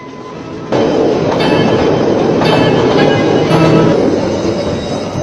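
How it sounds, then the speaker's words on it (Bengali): A train runs steadily and loudly nearby, its heavy rumble starting abruptly after a brief quiet moment and carrying a rhythmic wheel clatter throughout, with no voices. "ট্রেনটা কিনলাম, কেমন হলো?"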